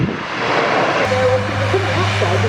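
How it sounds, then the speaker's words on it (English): A Lockheed C-130J Hercules military transport at an airshow, its turboprop engines giving a steady, loud drone with a low hum and a rising tonal whine, close by and continuous. "So the Aussies use this C-130J for medium airlift."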